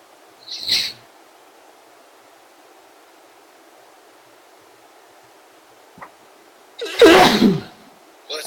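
A sharp sneeze bursts out near the end, preceded by a brief high sniff or squeak early on, over quiet room hiss.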